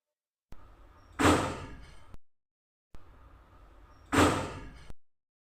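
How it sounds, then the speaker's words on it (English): An apartment lift door opens and then closes, twice in a row: each pass starts with a low sliding rumble, swells into a bright, loud mechanical rush and ends with a soft thud, close by with quiet gaps between. "I couldn't get the lift door to sound at that exact time. But this is what the sound sounds like."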